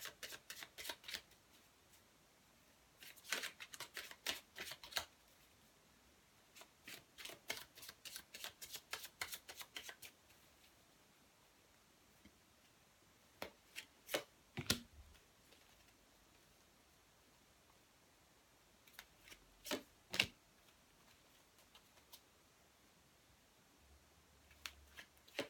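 Rider-Waite tarot cards are shuffled in quick bursts of crisp riffling flutters, then sparse taps and snaps as cards are laid down, quiet and close.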